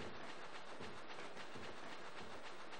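A train rolls fast in the PS1 game Echo Night, a continuous dense rushing rattle with a faint clickety-clack rhythm, steady and unbroken, with no voices.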